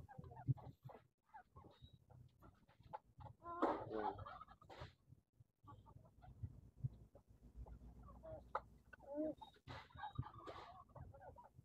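Backyard chickens cluck and chatter while pecking at feed mixed with squash, with bursts of busy clucking and a brief crow-like call amid steady farmyard background noise.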